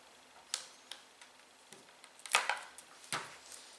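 Small screw being driven and tightened into an airsoft hop-up unit, a series of sharp, close clicks and ticks spaced irregularly, with no talking.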